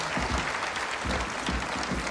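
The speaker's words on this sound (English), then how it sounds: "Let's give them a big round of applause." A crowd at a mystery writers' event gives a big round of applause, dense continuous clapping at a steady level throughout.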